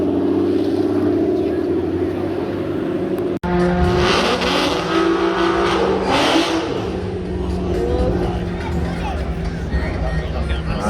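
An R32-engined race kart runs down the drag strip on slick tyres. Its engine roars loud and continuous with a steady high drone, swelling as it passes close, with no pause in the noise.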